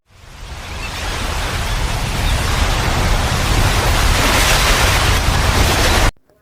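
Rough surf rolls onto Pantai Cemara beach in Cidaun, a loud, continuous broadband roar of waves that swells slightly before cutting off abruptly, with no voices.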